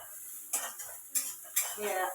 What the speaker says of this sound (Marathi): थोडी हळद टाकायची आणि 2 मिनिटं असं हलवून द्यायचं.